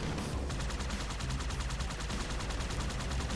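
Rapid automatic gunfire aimed at a Covenant vehicle in Halo 2, a fast, even rattle of shots running without pause across the whole stretch at moderate volume.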